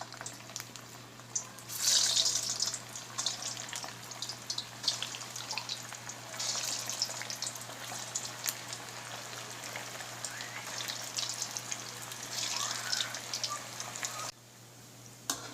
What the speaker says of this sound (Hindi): ऑयल हमारा गर्म हो चुका है और अब हम कोफ्तों को फ्राई कर लेते हैं।